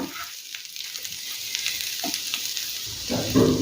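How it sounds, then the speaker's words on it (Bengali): Potatoes with cumin fry and get stirred in a pan over a low gas flame. A soft steady sizzle runs throughout, with a few scraping stir strokes and a louder burst of frying near the end. There is no talk. "গ্যাসের ফ্লেম একদম কমিয়ে রেখে নেড়ে চেড়ে রান্না করে নেব।"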